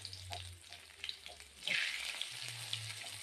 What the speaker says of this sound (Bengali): লবণ ও হলুদটা দিয়ে উচ্ছেগুলোকে কিন্তু সুন্দরভাবে লাল করে ভেজে নেব।